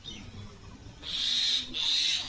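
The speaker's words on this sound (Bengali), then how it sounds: "দেখো দেখো পাখিগুলো কেমন করে" Agitated birds around a tree give two loud, drawn-out shrill calls in quick succession after a moment of quieter background.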